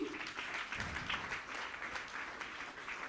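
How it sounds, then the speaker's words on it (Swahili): A church youth seminar audience applauds steadily for a few seconds, a dense wash of clapping hands with no talking over it. "Tupigie wa bishop na wa mama makofi"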